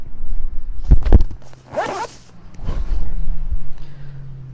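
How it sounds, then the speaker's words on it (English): Zipper on a bicycle touring pannier being pulled shut, a few quick rasping zips close to the mic, some handling rustle between strokes, no talking. "So let me just zip this up."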